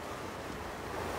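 Sea waves wash onto the shore below a seaside guesthouse, heard as a brief, steady roar of surf with some wind noise. No one speaks.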